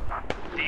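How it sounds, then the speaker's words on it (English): A single sharp mortar shell blast in a video game cracks out briefly in the middle of a short moment of quieter background sound. "Oh, that was a perfect mortar."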